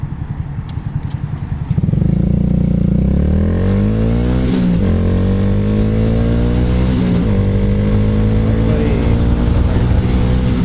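A Honda Grom motorcycle rides along a road, its small engine idling briefly before surging into loud, close, continuous revving that climbs and drops through gear changes for the rest of the ride.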